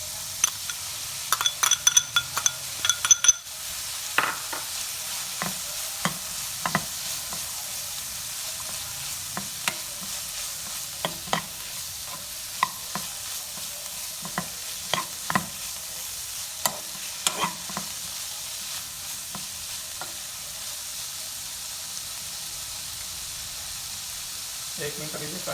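A chicken and vegetable filling fries in a pan with a soft sizzle, broken by sharp scrapes and clinks as a spatula stirs it. The stirring is busiest early on and quieter sounds follow.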